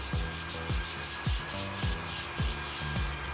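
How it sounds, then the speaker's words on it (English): Rhythmic scraping as sandpaper is rubbed back and forth by hand on a floor corner, roughly two strokes a second, steady and close over a constant background hiss. "then just give it a little hand sanding."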